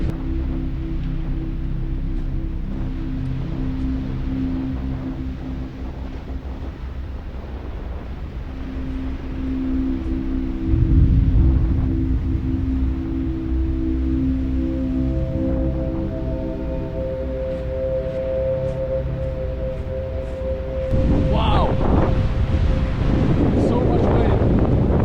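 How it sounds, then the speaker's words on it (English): Strong gusty seaside wind at Mølen, Norway, buffets the microphone in a low rumbling roar, with bursts of louder gusts and some tonal drone underneath. "We can see the sea here, seaside. It's really windy."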